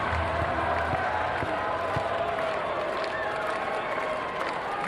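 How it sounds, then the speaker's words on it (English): A crowd at a Bulgaria versus Germany volleyball match roars with continuous cheering and clapping, a dense, steady wash of arena noise with no distinct voice rising above it. "Crowd all excited."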